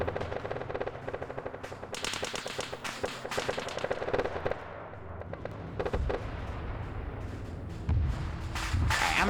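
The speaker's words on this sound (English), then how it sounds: "They're gunning down my poor infantry." Rapid machine-gun bursts crackle through a tank battle game, firing in dense repeated volleys that stop and restart across the stretch, loud and close, with no talk over them.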